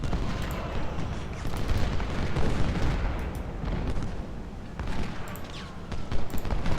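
Continuous crackling musket volleys in the Civil War strategy game Ultimate General: Civil War, dense overlapping shots with deep rumbling booms, steady and loud throughout with no talking.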